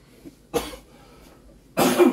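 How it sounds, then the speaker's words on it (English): Two harsh coughs close to the microphone from fumes while making habanero hot sauce, a short one and then a longer, heavier one after a pause. "coughing up a lung"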